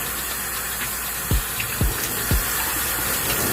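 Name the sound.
water rinsing shampoo out of a wig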